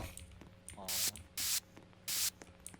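Three bursts of a spray can in a Roblox game, each a loud hissing blast about a third of a second long with short gaps between them, heard against faint game background noise.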